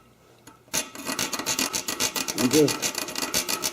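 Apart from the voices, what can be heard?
hacksaw cutting Corvette exhaust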